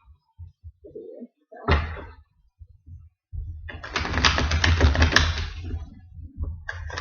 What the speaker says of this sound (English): Let's start off with a standard shuffle to mix the cards up a little bit